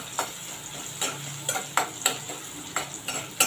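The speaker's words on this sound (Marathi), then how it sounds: "बारीक चिरले मी लसूण ती घालूया आपण थोडं परतून घेऊया" Finely chopped garlic stirs in a hot pan, giving a soft continuous sizzle, with a spoon or spatula scraping and tapping the pan in several sharp, irregular strokes at close range.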